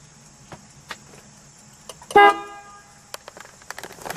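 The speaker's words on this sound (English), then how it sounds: "That's a commanding horn, right?" A 1942 Buick Super Convertible Model 56C sounds one short, loud, deep horn blast up close, set among light clicks and handling noises.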